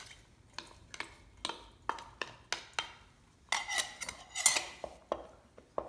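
A utensil clinks and scrapes in a bowl while mixing a siopao filling of carrots, garlic and scallion, a string of sharp close taps and stirs in uneven rhythm, with no talking.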